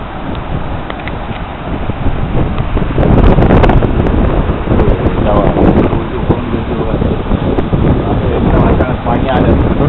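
The Sahastrakund waterfall sends out a loud, continuous roar of rushing water, close and dense throughout, with gusts of wind buffeting the microphone.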